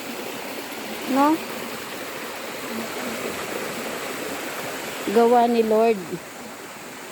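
Natural spring water flows steadily from a mountain source at Logarita Spring in Bilar, giving a constant soft rush under a few brief spoken words.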